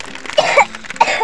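A child's short double cough, close and loud, two quick bursts in a row.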